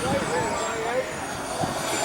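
A small jet-powered glider flying at an air show, its engine a continuous whining roar with shifting tones as it passes, with a voice talking over it.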